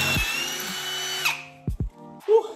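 A power drill whines at high speed, boring out the threaded wheel stud of a Toyota Soarer / Lexus SC400. The loud, steady whir cuts off midway, followed by a few short knocks and a brief squeal.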